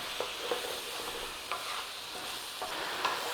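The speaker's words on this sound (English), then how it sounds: "Caraway seeds are going to bloom in the oil in the bottom" Caraway seeds sizzle gently in oil at the bottom of a pan for a braised cabbage and minced beef soup, a soft steady hiss with a few light ticks and clinks, no voices.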